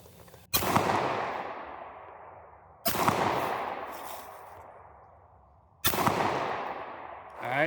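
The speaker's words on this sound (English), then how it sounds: "3 shots on the 7 yard target." Three handgun shots fired at a 7 yard target on an outdoor range, each a sharp loud crack with a ringing decay, spaced about two and a half seconds apart.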